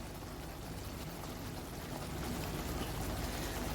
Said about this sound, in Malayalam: 1 പാല് ഒഴിച്ചു കൊടുക്കാം.